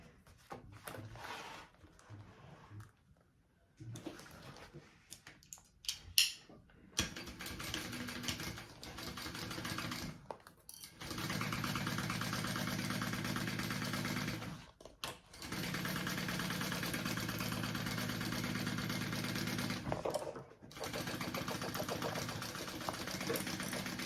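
A sewing machine stitching the side seams of a large crossbody bag, running in long steady bursts with brief pauses between, close and even, after some scattered handling noises at the start.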